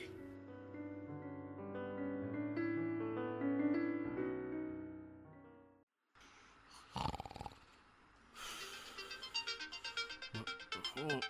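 A mobile phone rings with a melodic electronic tune that plays for several seconds in a domestic drama scene, then gives way to scattered rustling and noisy bursts.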